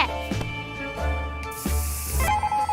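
Several sharp hissing insecticide spray bursts in the video game 60 Seconds! Reatomized, each a short blast of aerosol, the last one long and loud, over a low game soundtrack.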